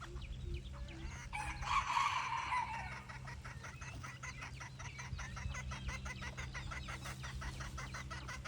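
A rooster crows once, fairly near, over the soft clucking of chickens at a rural home, and the quiet clucks carry on steadily after the crow.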